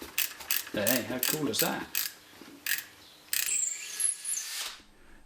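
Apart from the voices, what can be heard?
jacking up raise-and-lower casters under milling machine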